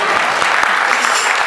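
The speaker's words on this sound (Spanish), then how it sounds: "Normalmente la gente aplaude cuando es..." Applause breaks out from an audience after a coin magic trick, a steady patter of many hands clapping, close and fairly loud, with a few distinct nearby claps standing out from the mass.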